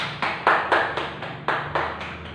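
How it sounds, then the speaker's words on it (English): A small audience at a classroom teaching demonstration claps, a handful of hands in uneven, bursting rounds, close and fairly loud, with no talking. "do a hand of applause"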